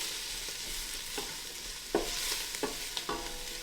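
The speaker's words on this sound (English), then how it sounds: "to get the vegetables sweating." Vegetables for salmon chowder, seasoned with salt and pepper, sweat in a pot under a soft, steady sizzle, broken by a few sharper stirring knocks near the end, close by with no voices.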